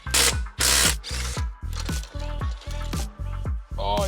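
Rapid bursts of an impact or ratchet tool loosening the wheel fasteners on an Audi S5, a series of loud, close mechanical whirs repeating in short rhythmic pulses.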